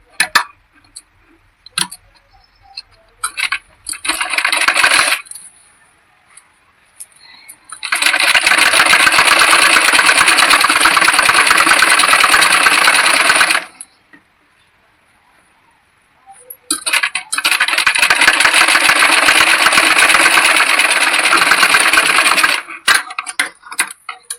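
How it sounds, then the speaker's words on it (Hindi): A sewing machine stitches a folded button strip on a blouse in two long, loud, steady runs of rapid mechanical chatter, with a few clicks and handling noises in the gaps between runs. "इसको हम इस प्रकार से फोल्ड करते हुए इसके ऊपर एक हम सिलाई को लगाएंगे"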